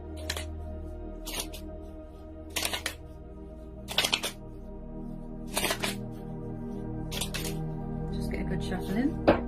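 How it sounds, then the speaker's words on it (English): Tarot cards are shuffled by hand in several short, crisp riffling bursts separated by pauses, fairly quiet and close, while a person speaks softly throughout. "Just get a good shuffle in."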